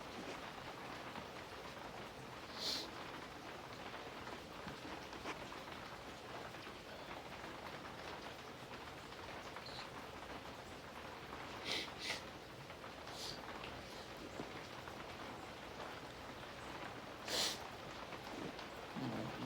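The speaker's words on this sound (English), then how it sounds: "It just means a great morning of rain." Steady rain falls through a quiet morning, a soft continuous hiss with a few faint, brief clicks and drips standing out now and then.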